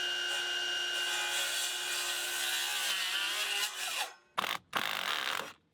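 Miter saw cutting wooden trim, a loud steady whining motor with the blade chewing through wood, then winding down and ending in a couple of short bursts, close and without talking.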